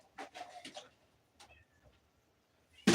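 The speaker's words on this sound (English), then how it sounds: "I hear you out there, big kitten boy" A pet cat named Donald meows several times in quick succession, close by, then falls quiet amid faint rustling before a sudden loud noise at the end.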